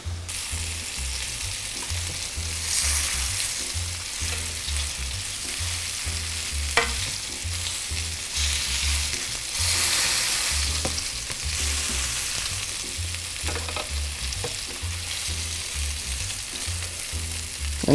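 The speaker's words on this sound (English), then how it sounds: "nice, beautiful golden sear on these things. Give it another minute, and then we'll sear the sides." Short ribs sear in a hot pan, a loud, steady crackling sizzle held close for the whole stretch, with occasional pops and light shifts of the pan, no voices.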